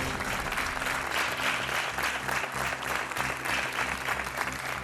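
Studio audience on the Portuguese RTP 1 game show Joker applauds a first-time contestant, Bernardo Gouveia, with steady, dense clapping for about five seconds and a voice now and then over it.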